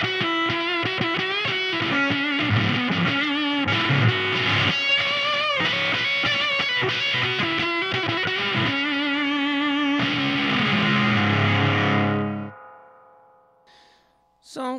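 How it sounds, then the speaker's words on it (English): Electric guitar from a two-knob Mosrite clone played through a psychedelic octave-fuzz tone, buzzy distorted notes and chords ringing in a continuous run for about twelve seconds, then fading out to near silence. "it kind of sounds like an Octavia when it's all the way up"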